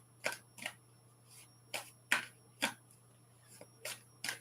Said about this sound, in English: So here are my beautiful cards. Let me just give them a shuffle.